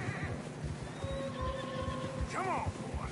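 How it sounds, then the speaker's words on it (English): A horse whinnies once with a long, rising-and-falling call in the snowy Red Dead Redemption 2 game world, set over steady ambient game noise and hoof sounds. "Horses are struggling."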